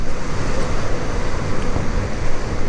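An Ariel Rider X-Class 52V step-thru e-bike runs at full throttle at top speed, heard as a steady, loud rush of wind and road noise through the whole short clip.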